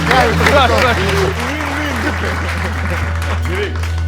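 A studio audience bursts into applause on a comedy talk show, clapping loud at first then settling, with voices and laughter talking over it.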